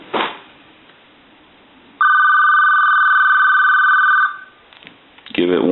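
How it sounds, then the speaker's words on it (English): A lime-colored AT&T Trimline 210 telephone rings in a single sustained, close bell burst lasting about two seconds, with a voice speaking briefly before and after it. "Give it a couple of rings."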